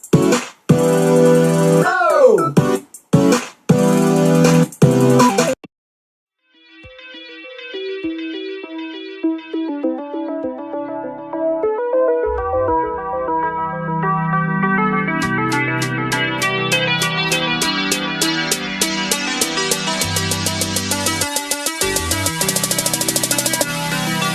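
A future bass track: a chopped vocal stutter gives way after a short silence to bright, bouncy synth chords, then a heavy bass and fast rhythmic hi-hats swell in.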